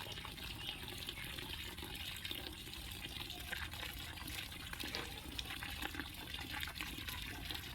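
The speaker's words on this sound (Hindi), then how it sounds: "प्रेशर तो है पानी का" Pressurised water gushes steadily from a borewell pipe, a dense continuous broadband rush that stays loud and even throughout with no talk over it.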